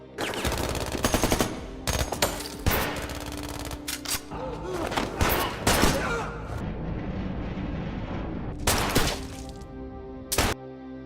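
Film gunfight with bursts of machine gun fire, loud rapid volleys coming in clusters with short gaps, mixed with sharp impacts and crashes, and music or effects running underneath.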